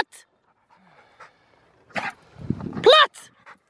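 A Rottweiler in protection training with a short bite sleeve pants in quick bursts, with a brief whine or yip near the end. The scuffling and breathing are close, and a faint voice comes in between.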